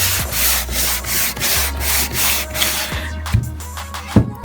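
Wood being sanded by hand with 100 grit sandpaper for a craft wall sconce, a close, steady series of rhythmic rasping strokes, louder at first then thinning out near the end.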